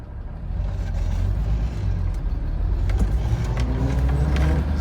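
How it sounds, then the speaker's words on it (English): Toyota Land Cruiser FJ60 with a newly installed rear motor mount, driven on a road with a deep, loud engine drone and road rumble, pitch shifting as it moves off, with a few light knocks and clicks. "So now let's go take it for a quick drive"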